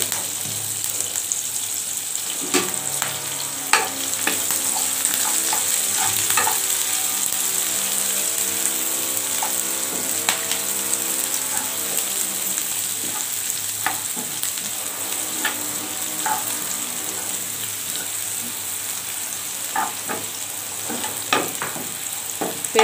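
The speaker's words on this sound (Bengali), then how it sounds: "এখন আমি পেঁয়াজ কুচি আর কাঁচামরিচ ফালি দিয়ে দিব।" Chopped onion and green chili sizzle and crackle steadily in hot oil for a village-style okra fry, with occasional stirring clinks against the pan; close and continuous, no talking.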